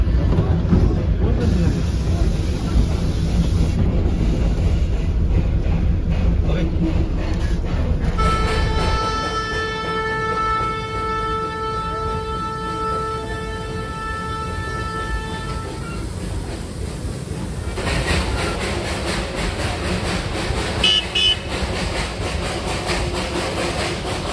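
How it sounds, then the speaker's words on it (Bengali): A Darjeeling toy train's diesel engine rumbles steadily near Batasia Loop with a long horn blast partway through, followed by continued mechanical chugging and rattling. "ও তো ডিজেল ইঞ্জিন"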